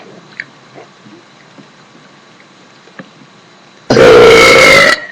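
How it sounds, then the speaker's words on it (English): A woman lets out a single long, loud burp while drinking, bursting in abruptly after a few seconds of quiet small noises. "This is not a good day for my burps."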